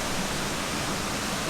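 Waterfall in Norway heard up close, a dense, steady broadband roar of rushing water with no breaks or voices.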